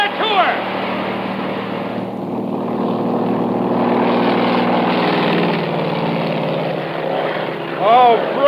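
A propeller engine drones loudly and steadily, swelling in the middle, with brief voices heard near the start and end over the roar.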